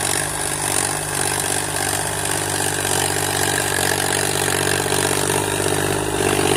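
Kubota L3600 tractor plowing a rice field, its diesel engine running with a steady, loud, close-up drone and rhythmic chugging throughout.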